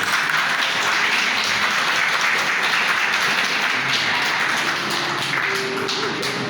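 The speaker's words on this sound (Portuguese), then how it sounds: "Quero que vocês recebam com alegria, com uma salva de palmas, as nossas irmãs." Church congregation applauding as women who have received a blessing are welcomed forward, a dense steady wash of clapping filling the room for the whole stretch with no talk on top.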